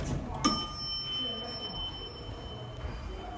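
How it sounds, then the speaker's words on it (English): A vintage station door bell at Mount Vernon West, a Metro-North Railroad station, strikes once and rings on with a sustained metallic tone, over low background rumble and murmur. "Let's hear the bell one more time."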